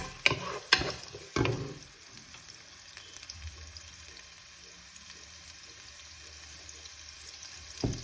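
Onions fry and brown in a pan for rice with meatballs, a steady close sizzle running throughout after a few sharp clatters of stirring at the start.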